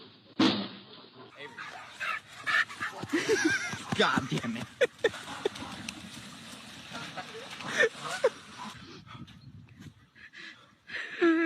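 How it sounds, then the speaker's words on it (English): Dog on a walk that goes badly, barking, yipping, panting and whimpering in an irregular scramble, close by, with someone talking and swearing over it. "When dog walking goes horribly wrong."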